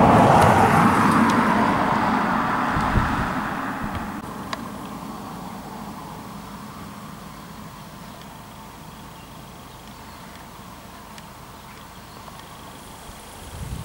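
A car passes near the front gates of a hospital, its broad road rumble loudest at the start and fading over the first few seconds into a quieter steady background hum.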